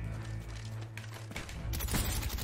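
Gunfire from a Call of Duty Black Ops match with a sniper in play, a short burst of loud, booming shots and rattling fire packed into a couple of seconds, no talk.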